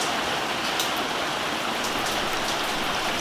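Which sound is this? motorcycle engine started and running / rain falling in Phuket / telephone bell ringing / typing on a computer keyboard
rain falling in Phuket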